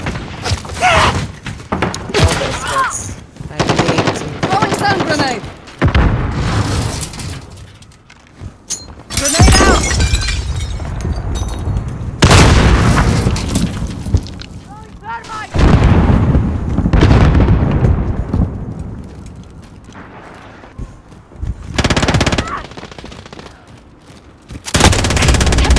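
Loud bursts of gunfire and heavy frag grenade blasts from a shooter video game crash in close succession, with rapid shots, booming explosions and brief quieter gaps between volleys.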